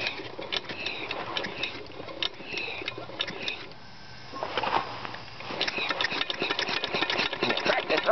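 Small Briggs engine running at slow speed, a low steady chugging with rhythmic ticking beats, moderately close, briefly quieter mid-way before resuming.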